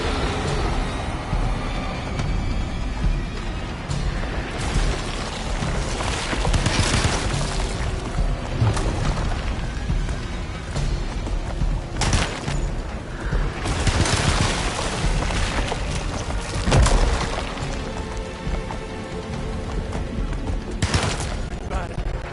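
Gunfire in the video game Alone in the Dark: scattered loud booming shots and thumps, spaced irregularly across the stretch, with a voice and background game noise between them.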